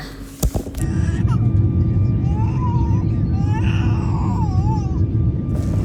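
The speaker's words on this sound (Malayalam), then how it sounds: "അങ്ങനെ അതാ ഫ്ലൈറ്റ് ഭൂമിയിൽ നിന്ന് ഉയർന്ന ആകാശത്ത് കൂടെ ഇങ്ങനെ പൊന്തി പൊന്തി പോയിക്കൊണ്ടിരിക്കുകയാണ്" A passenger airliner climbs after takeoff, heard from inside the cabin as a loud, steady low engine roar that settles in after a brief bump, with faint voices drifting above it.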